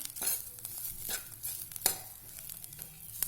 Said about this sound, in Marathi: एक दोन मिनिटात खोबरं भाजलं जाते